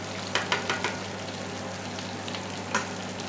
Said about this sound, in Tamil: நல்லா வெங்காயத்தை வணக்கிக்கலாம்